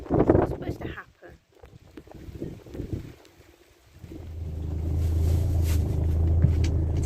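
A Morris Minor drives along an English road: voices come first over bumpy wind buffeting, then a steady low engine and road rumble from inside the car builds and holds.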